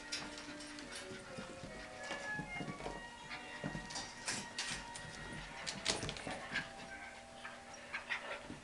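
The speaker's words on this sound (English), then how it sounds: "Two new little puppies getting along together, playing." Two young puppies playing together indoors, with scattered soft yips, whimpers, panting and scrabbling bursts at close range, fairly quiet and irregular throughout.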